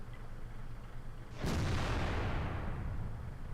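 A tank cannon shot in World of Tanks from an FV215b, one sudden heavy blast after a steady engine hum, followed by a long rumbling decay that fades slowly.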